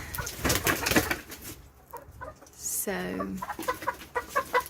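Backyard chickens cluck and murmur nearby in irregular bursts, with one sharper squawk partway through, while someone talks briefly over them.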